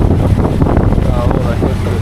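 Strong wind before a storm buffets the microphone in a constant, rumbling roar on Koh Yao Yai island, with a faint voice briefly audible beneath it.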